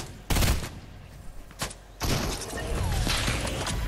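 A few loud bursts of gunfire crack in a Fortnite Battle Royale squads match, with separate shots followed by a sustained spray of fire and thuds.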